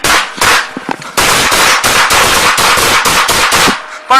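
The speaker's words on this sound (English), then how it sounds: "shots fired, subject down." Police gunfire in a rapid burst of sharp, loud shots, roughly a dozen reports in quick irregular succession, close and piercing, with brief gaps between volleys.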